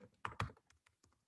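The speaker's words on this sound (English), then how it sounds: "I'm typing this out into the chat." Quiet keystrokes on a computer keyboard, a short run of about eight taps with two sharper clicks near the start, close and soft, heard alone.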